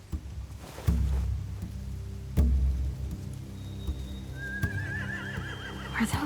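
Horses whinny from a game world with walkers, torches and hay, a high wavering neigh rising late over quiet ambient rustle, a couple of soft thuds and faint clip-clop.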